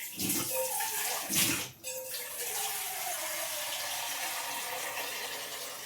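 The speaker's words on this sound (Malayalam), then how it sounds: "വെള്ളം എടുക്കട്ടെ കേട്ടോ" Water runs from a tap into a vessel for drinking water, a steady close rushing stream that briefly gets louder and splashier before settling into an even, continuous flow.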